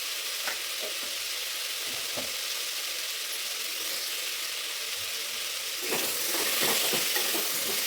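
Green chillies fry in hot oil for a wheat-rice pongal breakfast, a steady bright sizzle with soft stirring scrapes, growing louder and busier toward the end; no voices.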